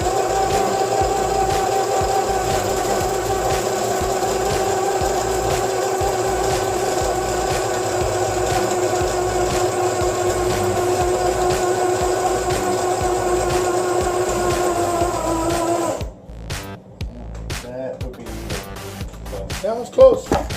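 60 lb Jerry Brown hollow core line spools onto an Avet LX Raptor fishing reel in a long, steady, close mechanical whirring drone that cuts off abruptly, followed by quieter handling noise.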